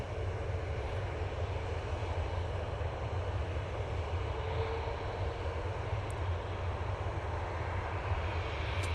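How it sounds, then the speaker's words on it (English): An EasyJet Airbus A320ceo jet airliner departing for Gibraltar produces a steady, sustained engine roar with a heavy low rumble and broad hiss, held at fairly even loudness throughout and heard from a distance. "I'm going to concentrate on this EasyJet, if you don't mind."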